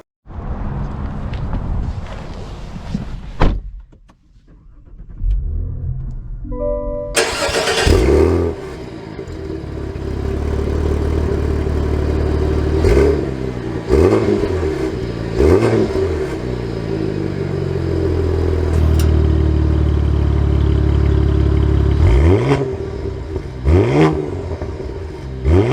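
A 2022 Cadillac CT4-V Blackwing engine fires up with a loud cranking flare, then settles into a deep idle and pulls away, with repeated revs rising and falling as the car drives off close by.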